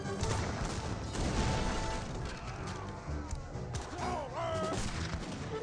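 Heavy cannon fire in Age of Empires 3 booms repeatedly through a busy battle mix, layered with other game effects and a brief whistling tone, moderately faint.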